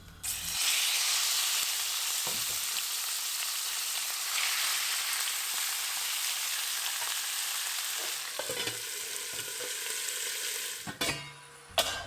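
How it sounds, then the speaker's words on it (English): Cubed meat chunks sauté in about four tablespoons of olive oil for a Turkish buğu kebab, a loud steady sizzle lasting throughout, broken near the end by a few brief clattering knocks of stirring. "going to saute in about 4 tablespoons olive oil"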